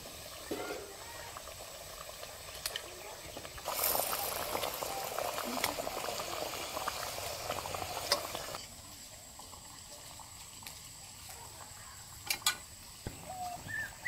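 A prawn malaicurry gravy made with coconut milk simmers and bubbles softly in a pan. The bubbling stays low and steady, and a louder splashy stretch comes in partway through.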